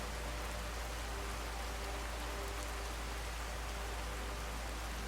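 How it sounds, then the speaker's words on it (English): Rain ambience from the True Storms mod in Skyrim, a dense, constant hiss of steady rainfall with no breaks, accompanied by a low steady hum underneath. "True Storms Rain. That's what's too high."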